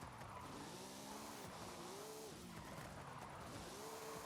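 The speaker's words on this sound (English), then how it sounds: "Come on, car, slide." Ford GT40 Le Mans race car tuned to 1500 horsepower, sliding sideways in Forza Horizon 5, with a loud continuous engine drone and tire squeal that rise and fall as it drifts.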